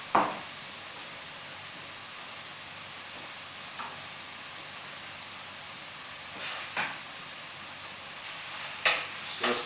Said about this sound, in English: I'm just going to whack that in there and let that cook down with the curry paste